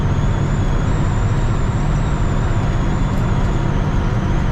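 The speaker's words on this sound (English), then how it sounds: "This truck starts up and runs easy." A 1961 Ford F100 Stepside pickup running steadily on a cold day, a loud, constant low engine rumble mixed with wind noise and no pauses.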